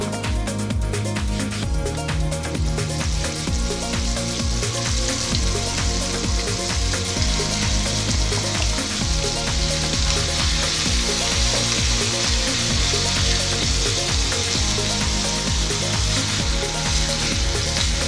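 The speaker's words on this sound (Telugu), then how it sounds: "తాలింపు ఫ్రై అయిన తర్వాత మనం ముందుగా మిక్సీ పట్టుకున్న పచ్చడి వేసుకోవాలి" Ground tomato chutney for pickle frying in a hot tempering of dried red chillies and curry leaves, giving a steady, loud, continuous sizzle with scraping and stirring throughout.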